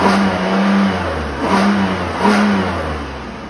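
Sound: Chevy Impala engine started and revving

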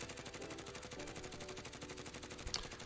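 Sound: Grau 5.56 rifle firing in Call of Duty Warzone video game

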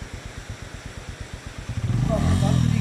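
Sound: motorcycle engine running in snowfall

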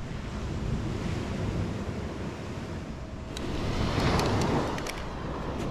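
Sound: ocean waves on a beach

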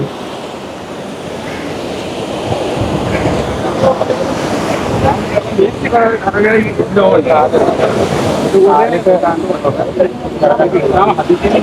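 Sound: sea waves on the shore

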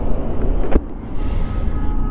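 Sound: heavy road traffic heard while riding a motorcycle

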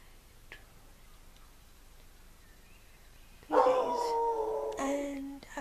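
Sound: dog barking and howling

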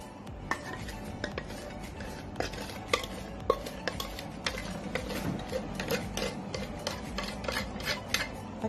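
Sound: mixing wet and dry ingredients for choco crinkles

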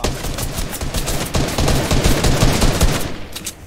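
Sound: assault rifle firing in Fortnite video game

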